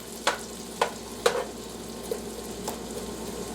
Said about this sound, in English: let this hang out at kind of a low heat and sweat the onions and celery